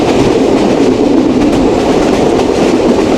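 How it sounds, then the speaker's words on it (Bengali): The Madhumati Express passenger train runs at speed on its way from Rajshahi toward Dhaka, heard from inside as a loud, steady rumbling roar with a rhythmic rattle of wheels on rails and no talking. "দুর্দান্ত গতিতে আমাদের মধুমতি এক্সপ্রেস রাজশাহী থেকে ঢাকার উদ্দেশ্যে ছুটে চলছে"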